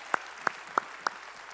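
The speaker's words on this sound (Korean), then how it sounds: "우리 찬양을 받으시 주님께 영광의 박수 올리겠습니다" In a Korean Sunday worship service, four crisp, evenly spaced claps ring out at a quick, steady beat over a quiet room, fairly soft and close, then stop.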